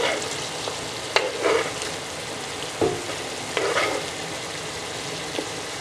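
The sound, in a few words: sliced diced onion frying in pan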